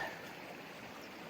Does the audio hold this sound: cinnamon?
no